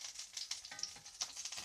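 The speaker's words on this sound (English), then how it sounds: "this sausage, I think, it's pretty much finished sizzling." Sausage sizzles faintly in a pan, a soft crackling hiss with scattered small pops over a quiet background.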